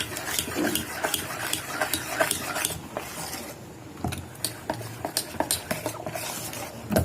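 Hot oil poured into potato bonda batter and mixed, with a spoon clinking and scraping against a bowl in an uneven rhythm, fairly quiet and close.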